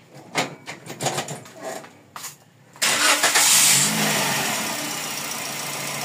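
Toyota Vios with an overheating problem starting up: a few cranking turns, then the engine catches and settles into a loud, steady idle close by.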